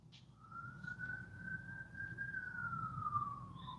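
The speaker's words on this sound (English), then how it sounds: "We hear the sirens going by" An emergency vehicle siren wails in one long, slowly rising and falling tone, distant and faint over a low rumble of background noise.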